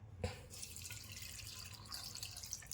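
After a brief knock, a glass of water pours steadily into a pot of sorrel-leaf dal (chukka kura pappu) with a soft continuous splashing hiss, fairly quiet and close.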